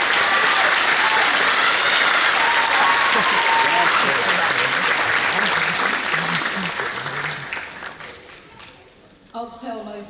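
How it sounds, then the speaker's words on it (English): An audience at a National Honor Society induction ceremony gives a loud, sustained round of applause that slowly fades, with voices coming in near the end. "give a round of applause for the suit"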